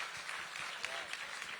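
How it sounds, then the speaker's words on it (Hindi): An audience at a literary festival claps in a steady, dense patter. The applause is soft and distant and runs throughout. "बहुत खूब, जोरदार तालियां।"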